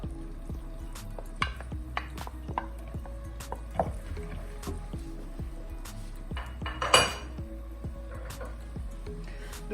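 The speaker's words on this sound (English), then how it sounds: "I'm going to be adding all my veggies into this melted butter." Diced green and sweet yellow peppers with other vegetables clatter into melted butter in a pan for Nigerian fried rice, a run of close knocks and scrapes of spoon on metal with a faint low sizzle underneath, no talking.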